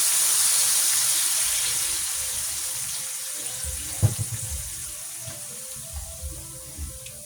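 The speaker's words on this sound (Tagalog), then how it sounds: "Lagyan natin siya ng konting tubig para lumambot ang pork." Water pours into a pan of pork as it cooks, a steady hiss that gradually fades, followed by a few soft clinks and bubbling pops.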